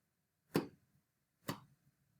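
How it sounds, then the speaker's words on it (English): Two evenly spaced, crisp knocks about a second apart, like a steady ticking pulse, close and fairly quiet. "So a beat should be just the steady underlying pulse."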